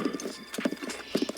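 Horse hooves in Zelda: Tears of the Kingdom clop in quick uneven pairs, a close, clear galloping rhythm of wooden-sounding beats with no talking over it.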